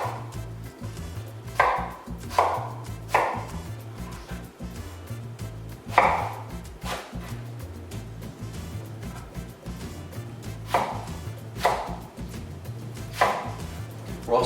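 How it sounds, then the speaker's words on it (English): A knife chops napa cabbage on a cutting board in a home kitchen, steady crisp thuds roughly every second or so, close and clear over a low background hum, no talking. "so we're gonna chop up some napa cabbage"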